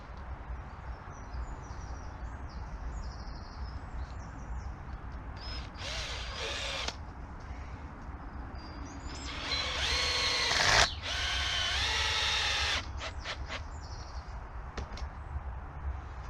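A power drill drives screws into a chicken pen roof during repairs, in two bursts: a short whir, then a longer, louder run that cuts off sharply, over faint outdoor background with no talk.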